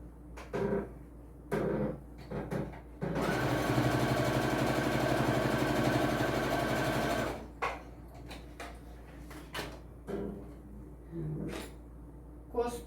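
Sewing machine stitching a pocket onto a fabric travel wallet, a steady mechanical whirring run of about four seconds, bracketed by short bursts and handling clicks before and after.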